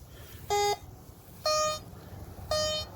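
A metal detector gives three separate electronic beeps as it sweeps over coins scattered in backyard grass, each tone a steady harmonic note lasting a fraction of a second, spaced about a second apart over low outdoor background rumble.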